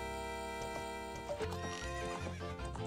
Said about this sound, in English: Hey, horse, don't want to hit you either.